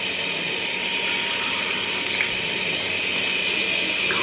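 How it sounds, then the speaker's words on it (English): Water runs from a faucet into a baby bathtub, a steady hissing gush that holds even and fairly loud throughout, with no talking. "Fill the baby's bathtub up."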